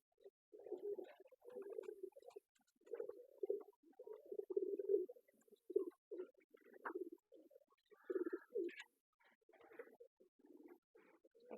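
Soft, low cooing of doves repeats in short bursts, several birds calling close by with brief pauses between phrases.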